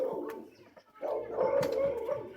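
An unhappy dog gives whimpering, howl-like barks, muffled and mid-distance, with a brief pause before a longer strained outburst.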